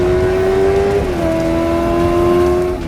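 Young riders run motorbikes through stunts on a highway. Their engines give a loud, close, sustained drone whose pitch dips once partway through, then holds steady, with no voices.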